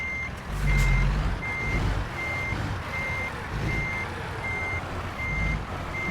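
A truck reverses into a parking spot, its backup alarm sounding a steady, evenly spaced series of high beeps about twice a second over a low, rumbling engine idle.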